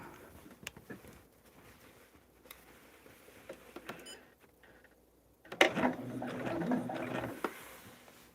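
A sewing machine stitching a jelly cake quilt starts after several quiet seconds of faint taps, then runs in a steady, moderately loud mechanical whir with rapid rattling for about three seconds.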